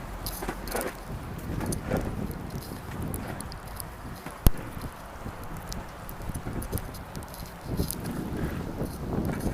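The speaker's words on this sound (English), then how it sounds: "One of the biggest problems with this storm, though, might be the wind." Strong gusting wind from the Stella blizzard in New York buffets the microphone in a continuous rumbling roar, with one brief sharp click partway through.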